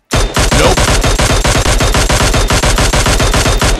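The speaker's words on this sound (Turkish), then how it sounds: "Soldan biri sıkıyor." Rapid, loud automatic gunfire in a shooter video game, a steady close burst of evenly spaced shots lasting about four seconds with no talking.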